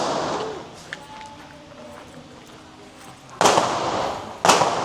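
Two sharp pistol shots from a CZ P-10C handgun fired at a target, one near 3.4 seconds and another about a second later, loud and abrupt against quiet outdoor background.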